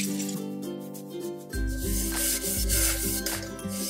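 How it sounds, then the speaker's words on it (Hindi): Burnt cookware is scrubbed with a kitchen scrubber in quick, close, rasping rubbing strokes that grow louder and more vigorous partway through, with no voice heard. "इस तरह के जो जले हुए होते हैं ना ये भी आपके इस तरह इससे रगड़ने से काफ़ी साफ हो जाते हैं।"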